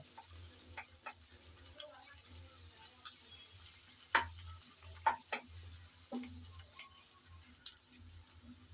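Onions frying in a pan, a soft constant sizzle broken by repeated scraping strokes and spatula clicks against the metal, close and fairly quiet, with a low hum underneath.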